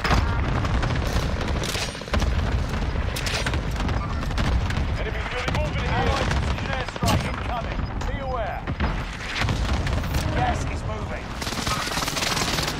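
Gunfire and booming blasts fill a multiplayer shooter match in a steady, dense din of shots and bursts, with players talking over the constant loud fire throughout.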